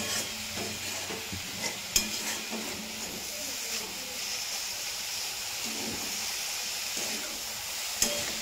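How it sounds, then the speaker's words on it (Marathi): A vegetable dish being stirred and mixed in a pan at home, with soft scraping and a faint background sizzle, an occasional utensil clink against the pan; quiet and continuous. "आणि परत मिक्स करून घेऊ."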